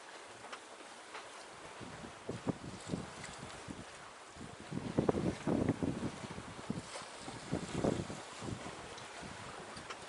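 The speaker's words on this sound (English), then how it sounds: "Usual downwind sailing. Wind's not too strong, so it's a little rolly." Single-handed sailboat running downwind in moderate wind on a rolling sea, steady wind rush and water wash with louder surges of splashing and hull slap midway, no talk.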